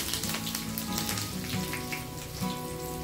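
Curry leaves drop into hot oil and fry with a steady, crackling sizzle, close and moderately loud, and nobody speaks.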